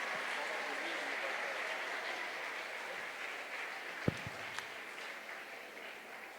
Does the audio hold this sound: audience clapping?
yes